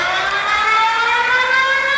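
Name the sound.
emergency alert system tornado siren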